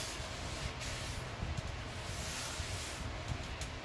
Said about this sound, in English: I give it a quick spray, not brake fluid, brake cleaner